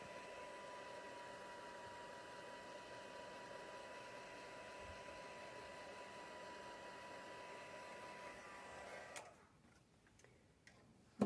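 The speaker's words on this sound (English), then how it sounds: "So I'm just going to dry it a little bit." A handheld heat dryer blows a steady whirring hiss over cherry cobbler ink on stamped paper, running continuously before switching off near the end.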